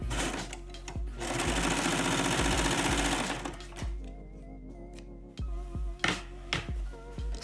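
Sewing machine stitching tennis skirt fabric, running in a long steady burst and then in short stop-start runs, close and fairly loud with no talk.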